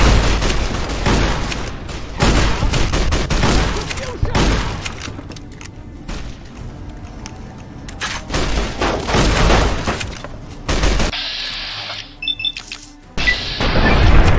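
Lever-action rifle gunfire in Fallout New Vegas during the Battle of Hoover Dam, loud booming shots and crashing impacts in uneven clusters, with a brief quieter gap and a metallic ring near the end.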